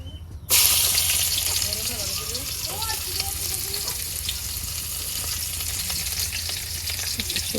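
Chopped onion drops into hot oil in two pans, bursting into a loud, close sizzle that keeps crackling and hissing steadily, with faint voices underneath.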